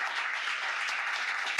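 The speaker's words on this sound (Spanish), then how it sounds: "Vamos a regalarle un aplauso" Audience applause after a networking talk event, a dense, even wash of many hands clapping at moderate distance, steady throughout with a slight rise at the very end.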